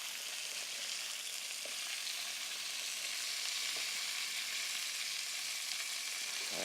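Meat pieces brown in a pan with a soft, even sizzle that holds at a low level throughout, with a couple of faint clicks and no voices.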